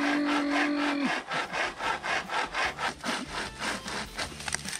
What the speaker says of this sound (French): Séquence bûcheronnage grâce à la scie portative de Benoît, bien pratique